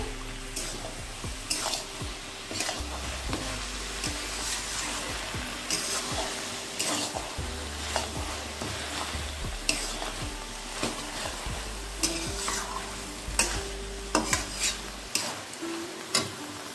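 Fried lentil dumplings are stirred into cooking bottle gourd in a pan, with a spatula scraping and clinking irregularly over a soft sizzle, close by and continuous.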